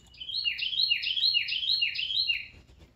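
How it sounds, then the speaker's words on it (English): A loud bird call rings out nearby in a rapid, repeating series of shrill rising and falling whistles, clear and alone for about two seconds. "that was a loud bird."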